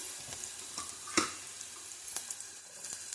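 Onion and carrot frying in a pan, a faint, steady sizzle broken by a few sharp clicks and scrapes of stirring, close by with no talking.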